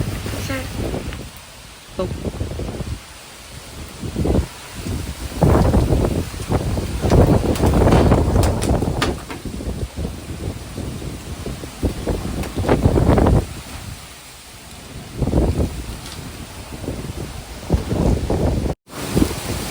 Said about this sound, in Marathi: बघू शकता किती वारा सुटलेला आहे बापरे